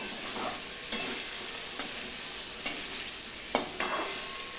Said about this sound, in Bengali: এখন আমি দিয়ে দিচ্ছি দিয়ে আবারও দু মিনিট মতন আমি রান্না করে নেব মিশিয়ে নিয়ে